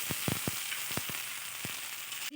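Spice paste hisses and sizzles steadily in a frying pan with fried carrot and coconut for a cauliflower and lentil paturi, with sharp crackles and pops scattered through it, close and fairly loud.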